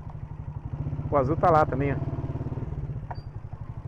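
A motorcycle idles close by with a steady, low, even putter as its rider parks it on the street; someone talks briefly over the engine partway through.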